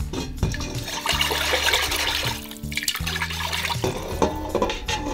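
Beef broth pours and splashes continuously back into a pot, a sloshing stream with a low hum underneath, no voices.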